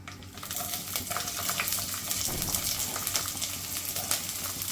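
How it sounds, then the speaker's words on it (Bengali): Onions frying in oil in a cooking pot, a steady low sizzle with occasional stirring clinks, close and continuous throughout with no talking. "তেলের ভিতরে পেঁয়াজ দিয়ে দেব"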